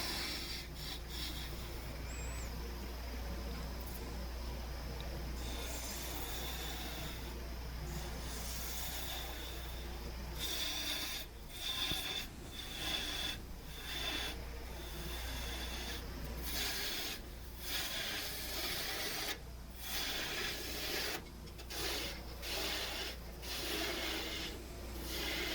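Sandpaper rubs against a wooden beer bottle spinning on a woodturning lathe at reduced speed, a continuous raspy friction with a low motor hum beneath and repeated brief breaks where the paper lifts away.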